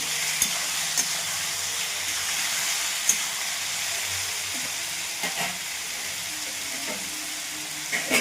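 Fried potatoes are tipped into a frying pan and stirred, bringing a soft sizzle under scattered scraping and knocking of a spoon against the pan, no talking.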